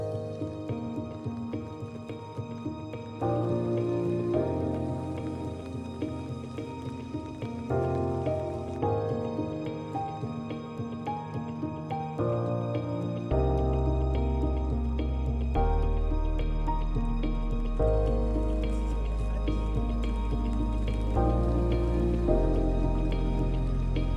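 Steady rain falls in Aberystwyth on Cardigan Bay, Mid Wales, a continuous patter of drops on surfaces with a constant wash and no voices over it.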